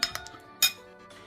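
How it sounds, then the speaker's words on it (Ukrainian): Metal cutlery clinks against a bowl while salad ingredients are mixed, a few light chinks followed by one brighter clatter, close and alone. "Змішали, перемішали"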